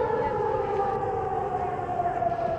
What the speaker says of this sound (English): Who's singing with the sirens?